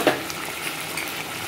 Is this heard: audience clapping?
no